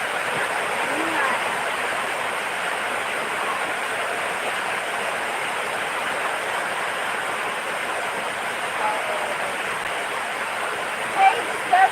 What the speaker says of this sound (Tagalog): meron ka na pala mga ulan